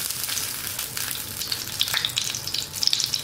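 Stuffed eggplant sizzles in a pan after oil is poured over the top, a steady bright hiss with small crackling pops close by and no voices.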